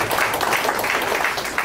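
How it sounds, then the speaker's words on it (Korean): Applause from an audience at a provincial council education committee's overseas-training report meeting, honoring the committee chairman; dense, steady clapping fills the short stretch at moderate loudness. "우리 위원장님께 다시 한번 박수 부탁드리겠습니다"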